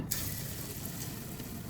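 Thin leaf fritters dropped into hot oil in a wok over a clay oven fire, giving a loud, steady, close sizzle and crackle throughout with no talking.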